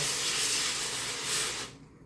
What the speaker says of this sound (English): I am going to spray it.